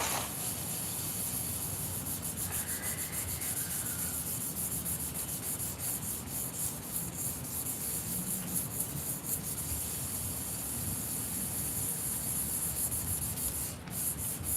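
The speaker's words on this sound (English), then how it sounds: "So let's do the sanding." Steady, soft rubbing and scraping of sandpaper across filler on a Dodge Dart car body, continuous and close, with no talking.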